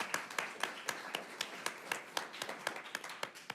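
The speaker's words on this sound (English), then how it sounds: "You can clap for her one more time." A small audience at a school board of education meeting clapping for a new staff member, a sparse, slightly uneven patter of hand claps from a few people, fairly close and moderately loud.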